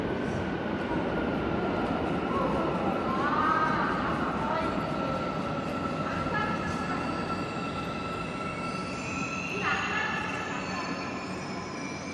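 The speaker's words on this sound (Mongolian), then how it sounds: "Одоо метро ирж байна." A metro train in Kazakhstan rumbles into the station with a broad roar and brief squealing of wheels, continuous and fairly loud throughout.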